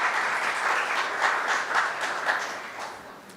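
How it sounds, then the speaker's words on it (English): An audience clapping after a performance, a steady wash of many hands at moderate loudness, slightly distant, tapering off toward the end. "Let's give them a big round of applause."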